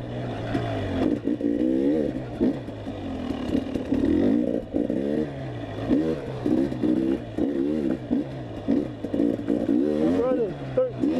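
An enduro dirt bike engine runs in first gear at a sprint enduro, revving up and down with choppy throttle bursts through a tight section, close and steady, with talk over it.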